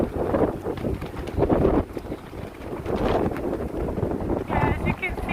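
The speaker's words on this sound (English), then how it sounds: "you can probably hear that it's windy" Strong gusts buffet the microphone on a windy morning street in Gangnam, Seoul, a steady low roar that swells and dips throughout, heard close and loud.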